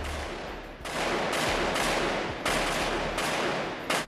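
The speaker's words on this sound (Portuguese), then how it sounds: "Tiros agora aqui na CDD" Gunfire on a street in Cidade de Deus, Rio de Janeiro, near the Linha Amarela expressway, comes as sustained loud bursts of rapid shots, with brief gaps between volleys and one sharper crack at the end.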